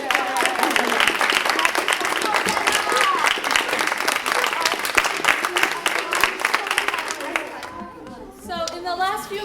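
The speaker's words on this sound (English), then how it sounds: "Applause for all our performers." An audience at a third-grade string recital gives a sustained round of dense clapping for the young performers, with scattered chatter, before the applause thins out near the end.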